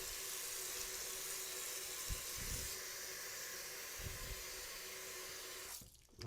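Water runs steadily from a tap into a sink during washing, a continuous close splashing hiss with a few heavier gushes, cutting off near the end.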